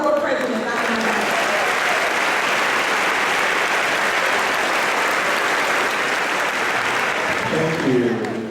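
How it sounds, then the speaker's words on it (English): An audience at a 2018 Topeka Public Schools convocation claps steadily and loudly for the board president, a dense sustained ovation lasting several seconds before tapering off, with a voice briefly audible at the start and end. "Let's give an applause for our board president, Dr. Morrison."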